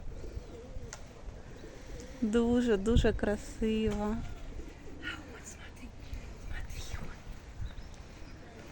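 Birds coo and call softly in the background while someone speaks quietly over them, with outdoor ambience throughout.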